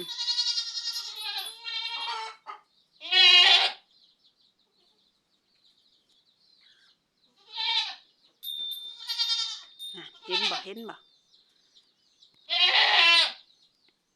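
Goats bleat loudly in several separate bursts, close by, with a person talking briefly between the calls.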